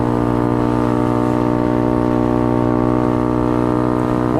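Honda Grom motorcycle with an aftermarket exhaust, a steady loud droning engine note held close and unbroken while riding in traffic, with a slight rise in pitch at the very end.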